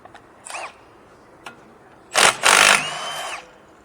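An impact tool takes off the 14mm axle center nut on a Volvo C70 during a front CV axle replacement, giving a few short whirring bursts and a brief tap before two louder rattling runs close by.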